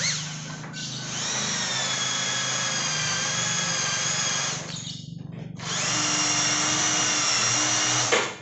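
A power drill bores screw holes while building an industrial-style walk-in wardrobe, giving two long, close, whining bursts of high-pitched motor drone separated by a brief pause.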